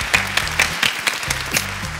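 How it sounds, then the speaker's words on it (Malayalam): A studio audience applauds after a performance on a Malayalam television reality show, with dense, continuous clapping over soft music tones throughout. "വിന്റെയും മീനാക്ഷിയുടെയും വക നല്ല തകർപ്പനായി നമ്മൾ ഒരു കൈയടിയോടെ പാസാക്കി"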